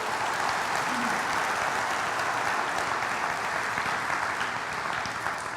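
Church congregation applauding the Lord during a sermon, a sustained even wash of clapping from a large crowd that carries on for several seconds without letting up.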